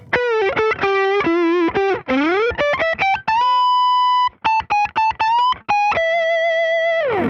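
A distorted electric guitar plays a bluesy improvised minor pentatonic phrase with an added major third, with bends and sustained notes, loud and close with no talking.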